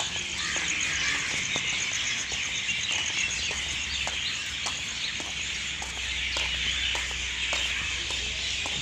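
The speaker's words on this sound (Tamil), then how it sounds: "எப்போவுமே என்ட்ரன்ஸ் மரத்தில் ஏகப்பட்ட கூட்டம் கூட்டமாக பறவை இருக்கும்" Flocks of birds perched in a tree by an entrance keep up continuous overlapping chirping and calling in the morning, a busy unbroken chatter heard at moderate distance above low background rumble, no voices.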